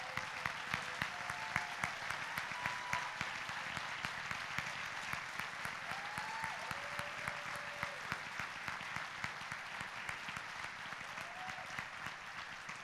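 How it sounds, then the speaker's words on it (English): Long, even round of applause from an audience at a State of the City event, recognizing city employees as they stand, faint and distant with steady clapping throughout and a few brief voices mixed in. "Let's give them a round of applause."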